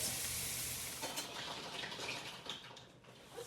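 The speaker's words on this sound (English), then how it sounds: "We're gonna cook it until the onions are translucent and the mushrooms are cooked." Onions and mushrooms cook in a pot on the stove, giving a steady, soft sizzle with faint stirring and clinks throughout, and no voices.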